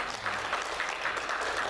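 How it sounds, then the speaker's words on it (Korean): A church congregation at a Christmas service claps in thanks, a steady, dense applause with no voices over it. "우리 에녹 선교회 감사의 박수 합시다"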